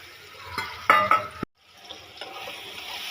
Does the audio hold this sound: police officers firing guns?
no